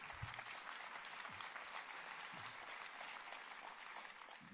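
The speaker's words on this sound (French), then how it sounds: "Vous auriez mieux fait d'attendre la fin pour applaudir." A hypnosis and pain conference audience applauds in a dense, steady wash of clapping that holds evenly throughout, fairly quiet and with no voices over it.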